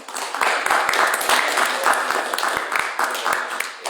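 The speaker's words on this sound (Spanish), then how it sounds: "me gustaría que le demos un fuerte aplauso al hermano" A church congregation applauds steadily, a dense wash of clapping with some individual claps standing out, sustained throughout.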